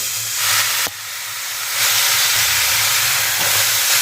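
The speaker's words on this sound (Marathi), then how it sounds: "कढई आपण तापत ठेवूया कांदा आपण यामध्ये आधी नुसता परतून घेणार आहे" Onion dry-sautéing in a hot kadhai gives a steady, close sizzling hiss that swells and settles, broken by a single sharp click near the start, with no talk.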